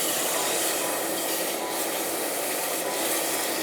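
Homemade turkey broth being stirred into a roux in a pan, a continuous scraping, rubbing sound of the spoon working through the thickening mixture, steady and close with no talk.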